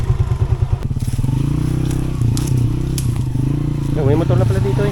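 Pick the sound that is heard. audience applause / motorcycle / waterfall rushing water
motorcycle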